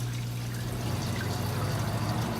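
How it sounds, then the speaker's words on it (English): Water pours steadily into a 5-gallon sand-bottomed aquarium, a continuous close rushing trickle with a low steady hum underneath and no voices. "as I add water into this tank, instead of stirring all the sand up"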